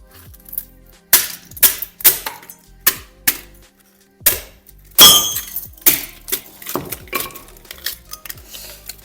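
Old burnt-out television parts being smashed apart by hand to extract copper and other metals: sharp, close cracks and clattering knocks in irregular bursts, with brittle crumbling debris between blows.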